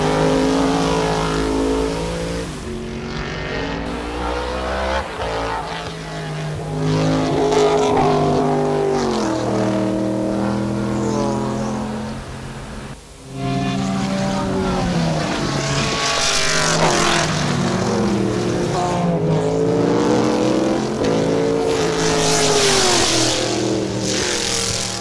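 An Aston Martin AMR1 race car at full racing speed during the 1989 Dijon sports car race: a loud, continuous engine howl rising and falling through gear changes, with a brief dip midway before the roar returns.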